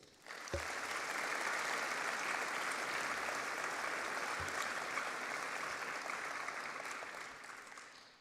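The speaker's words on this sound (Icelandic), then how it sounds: "Við skulum gefa þeim gott klapp" Sustained audience applause at a technical college graduation ceremony in a concert hall, a dense, even wash of many hands clapping for several seconds from a distance, with a couple of thumps and no speech.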